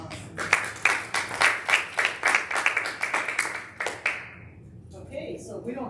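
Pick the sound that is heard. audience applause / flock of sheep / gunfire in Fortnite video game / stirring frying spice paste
audience applause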